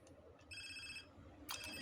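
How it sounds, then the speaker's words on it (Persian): A telephone rings in an indoor scene, giving a short electronic ring burst in the middle and another starting near the end, fairly faint under room noise. "باز تلفنش زنگ"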